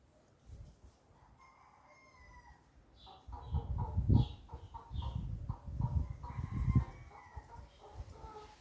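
A rooster crows from somewhere below with drawn-out, wavering calls, answered by nearby hens clucking and cackling in a loud burst that builds midway and continues to the end.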